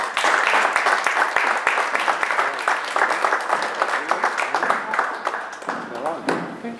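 A crowd at a Socialist Party candidacy presentation in Moita applauds a local women's coordinator as she is welcomed. Sustained clapping from many hands fills the room, with voices talking over it and one voice rising near the end.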